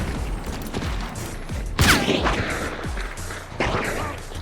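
Gunshots in a hunting and extermination shooter game, a few sharp loud cracks with a big blast near the middle and another later, over a busy game background.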